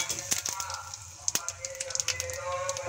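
Bay leaf, cinnamon, cardamom and cumin sizzle in hot oil for a tempering, a close, steady crackling fizz with scattered sharp pops and a few light clinks, no talking.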